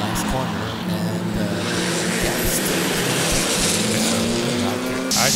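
Touring race cars roar past on the Sonoma race track, a dense continuous engine wash with shifting pitch and a sharp rise at the end, while commentators talk over it.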